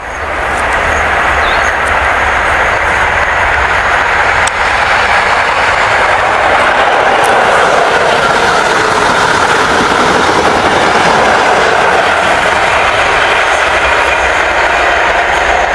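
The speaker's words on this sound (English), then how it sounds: "we got a passenger train coming through, Pamela" A model passenger train on a model railway roars past close by for the whole stretch, a loud continuous rushing rumble with faint rhythmic clatter of wheels on rails.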